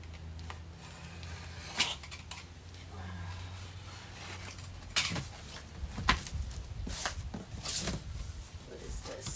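Thin little knife slicing open the tape and cardboard of an electric unicycle shipping box, with scattered scraping cuts and rustles close by, irregular bursts over a low background hum.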